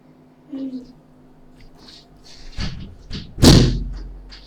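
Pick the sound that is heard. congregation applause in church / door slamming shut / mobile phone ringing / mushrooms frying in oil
door slamming shut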